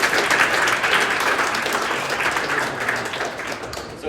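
A crowd at a live stage talk breaks into loud, sustained applause, dense clapping filling the room throughout with a faint voice underneath.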